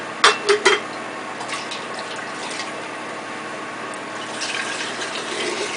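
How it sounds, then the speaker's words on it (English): Pineapple rind juice pouring into a canning jar, a few quick clinks at the start and then a steady liquid fill that swells slightly near the end. "Let me fill this one up now."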